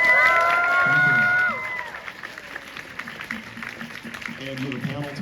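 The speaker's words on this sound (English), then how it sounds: "Let's have a round of applause for Dream." Crowd applause and cheers from a VidCon 2025 panel audience for Dream, a loud swell that begins over a brief tonal musical sting, then settles into steady clapping and shouts.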